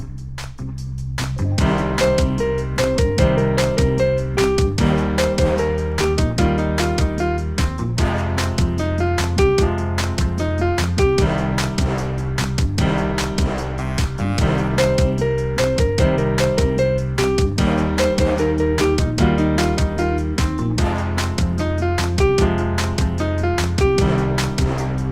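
Piano chorus of a song, a steady rhythmic pattern of right-hand melody over left-hand chords, played loud and close throughout with no talking.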